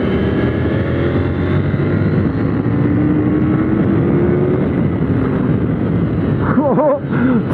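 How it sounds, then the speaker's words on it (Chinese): KTM 890 Duke R in Sport mode accelerating hard on a kart track, front wheel lifting: a loud, continuous close engine roar with rising pitch sweeps near the end and wind buffeting over the top. "重开油门的时候，它前轮就开始想要举了，非常躁动"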